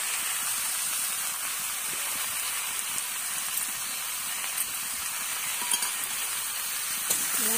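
A paste of cumin, chilli, ginger and garlic fries in a pan, giving a dense, even hiss of sizzling oil throughout with a few faint clicks of a spatula, close by and with no voices.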